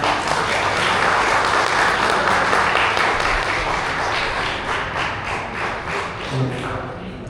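Conference audience at WordCamp Nepal gives a big round of applause welcoming speaker Dipendra Sunuwar, dense sustained clapping filling the hall and tapering slightly toward the end.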